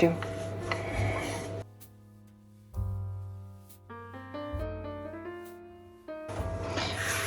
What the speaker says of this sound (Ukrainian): Зверху викладає тісто та розкачує тісто товщиною приблизно 3-5 мм.